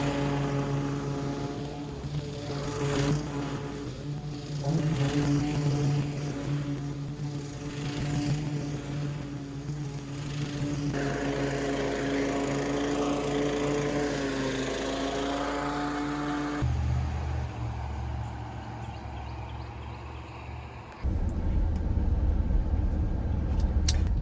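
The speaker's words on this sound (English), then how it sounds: "Look, everybody's mowing" Lawn mowers drone across Texas yards on a mowing workday, with a steady close engine hum that shifts in pitch and load as the machines work and cut off abruptly near the end, with no talking.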